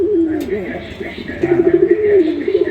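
An original Golla pigeon gives a soft, repeated cooing call close by, the low throaty notes coming in short rolling bursts.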